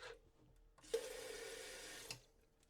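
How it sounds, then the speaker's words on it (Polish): Water is poured into a container during the cleaning of inline skate bearings, a steady splashing pour lasting just over a second, close and fairly quiet, alone without talk. "Natomiast doleję trochę wody."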